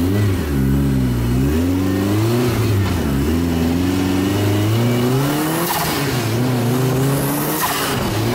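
A small turbocharged 4-cylinder 1.1 liter engine with a T15 turbo revs loudly and repeatedly, rising and falling in pitch through several close, strong pulls, with no talking.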